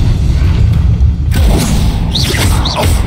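A loud Confringo fire spell bursts in Hogwarts Legacy, a heavy booming blast with a rush of crackling debris, followed by bright magical whooshing tones.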